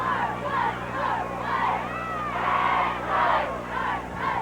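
Large crowd in the stands at a 1985 Florida high school football semifinal, a steady roar of voices and cheering swelling in waves throughout.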